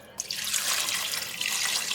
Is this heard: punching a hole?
no